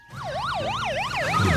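A cartoon police car siren wails in a fast, regular up-and-down sweep, loud and close, rising in level toward the end with no voices over it.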